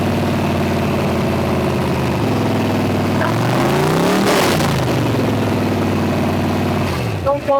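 A 383 stroker V8 of a demolition derby car, rated at 500 to 600 horsepower, idles loudly up close and then revs in a rising and falling sweep before settling back into a rough, steady idle.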